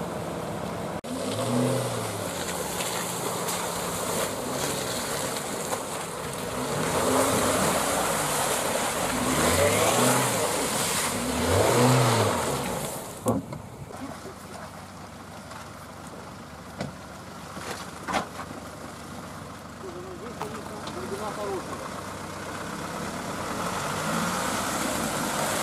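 A Suzuki Jimny engine revs and pulls away, rising and falling in repeated gear-change sweeps, loud and close from inside the car, then settles into a steadier drone with occasional bumps and knocks.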